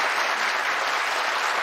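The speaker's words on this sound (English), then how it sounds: "Nice round of applause" Dense, steady applause from a town hall audience, filling the whole stretch at an even level with no pauses or standout voices.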